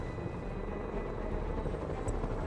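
Helicopter flying in a Spider-Man video game while free roaming the city: a constant, dense rotor-and-engine drone holds steady throughout with no voices over it.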